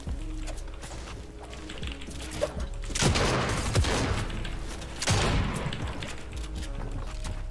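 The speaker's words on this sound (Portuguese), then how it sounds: "Atirando." Video-game gunfire in a multiplayer shooter, bursts of rapid mechanical rattling shots with two louder volleys amid clattering background action, fairly quiet overall.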